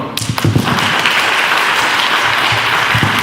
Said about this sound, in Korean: 네, 다시 한번 뜨거운 박수 부탁드리겠습니다.